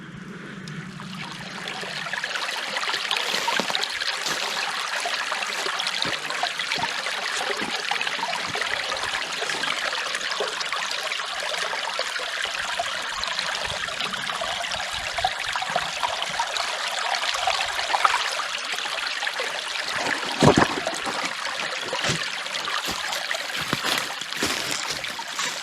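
A mountain stream flows through deep snow in a remote wilderness, a steady broadband rush of running water close by with occasional splashes and trickles, continuous throughout without talk.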